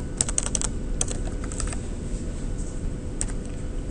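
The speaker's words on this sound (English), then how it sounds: "let's type in Y location" Typing on a computer keyboard, quick clusters of close key clicks over a low steady room hum, with a pause before a final short burst and no voice.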